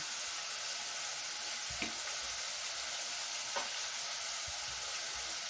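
Meat stewing in a pan for plov gives off a steady, fairly faint sizzle and bubbling that runs throughout with no voices, joined by a couple of soft clinks.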